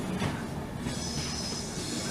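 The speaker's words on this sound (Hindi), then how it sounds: "ये अभी भी एक रेल जा रही है।" A train runs along the railway line behind a house in London, heard from indoors through closed windows as a steady rumbling roar with a faint high wheel squeal, continuous and moderately loud, with no voices.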